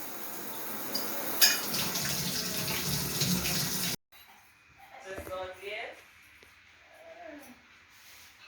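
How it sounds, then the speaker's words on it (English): A constantly running kitchen sink mixer tap pours steadily for several seconds with a brief sharp knock, then cuts off, leaving soft handling sounds and someone talking. "this kitchen sink's constantly running"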